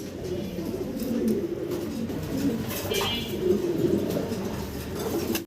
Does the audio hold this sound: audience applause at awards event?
no